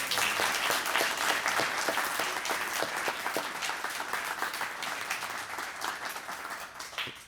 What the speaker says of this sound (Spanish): si a ustedes les quedan un poquito de aplauso